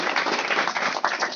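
Audience applause at a career counselling program in a village, a steady wash of clapping from many hands that holds evenly for over a second with a brief dip near the end.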